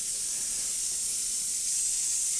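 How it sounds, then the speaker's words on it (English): A Vapor Rino 120 volt, 145 PSI automotive steam cleaner sprays during car detailing, giving a steady, loud, unbroken hiss of vapor with no pauses and no voices. "a Vapor Rino 120 volt, 3-in-1, 145 PSI automotive detailing vapor steam cleaning system in action"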